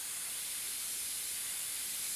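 Spray bottle misting water during the painting of a rose, a steady, soft, airy hiss lasting the whole moment without pauses, close and alone with no talking.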